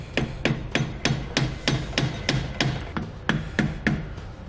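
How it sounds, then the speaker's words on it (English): A screwdriver prying and tapping at a trailer hub grease cap during a Kodiak disc brake installation on a 2018 Grand Design Momentum fifth-wheel, with about a dozen sharp metallic knocks in a steady rhythm, close up and with no talk. "I like to get a screwdriver behind the cap rather than hit it directly on so we don't end up damaging it"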